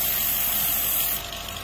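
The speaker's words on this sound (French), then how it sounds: "c'est pas la courroie alternateur, mais c'est la courroie du compresseur de clim" A Suzuki Swift's engine runs with a noisy air conditioning compressor belt, giving a steady, close, broadband whir and hiss that continues without a break and eases slightly in level after about a second.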